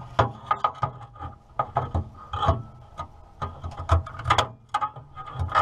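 Metal clicks, scrapes and rattles from hands working on a trailer latch mechanism, a close, irregular run of short taps and rubs with no talking.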